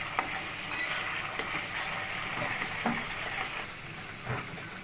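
Hilsa fish masala sautéing in a pan with salt added, a steady close sizzle of frying spices broken by scraping stirs and occasional spoon knocks against the pan, with no talking.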